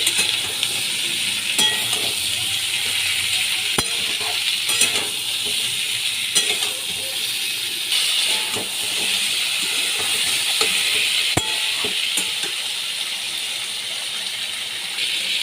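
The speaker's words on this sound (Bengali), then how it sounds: "ঝিঙে দিয়ে আমি ভালো করে ভেজে নিচ্ছি" Ridge gourd frying in a pan: a steady, fairly loud sizzle and hiss runs throughout, broken by scattered clinks and scrapes from stirring, with no one talking.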